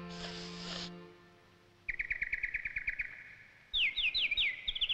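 A small bird, named as a nightingale, sings in rapid repeated chirps and trilled phrases, with a louder whistled run near the end, heard fairly close after a brief tonal sound.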